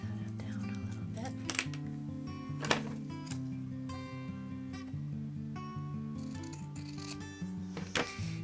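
Scissors snip and rub through thin material for a faux metal mini journal cover, giving a series of close, crisp cuts and scraping strokes at an uneven rhythm, with quiet talking underneath.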